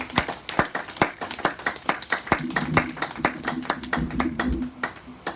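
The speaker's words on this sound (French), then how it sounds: "Nous acclamons très fort pour la gloire de notre Seigneur" A church congregation claps loudly in praise, a dense run of sharp hand claps that keeps going and swells near the end with some cheering voices mixed in.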